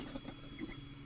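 Creality Ender 3 Classic 3D printer at work, a faint steady hum of stepper motors with soft pitched whirs and light patter of the moving head, close and alone.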